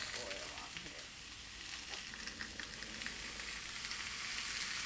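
Fajitas fry in avocado oil on a 36-inch Blackstone propane griddle, a continuous bright sizzle with crackling spatters, steady and close throughout.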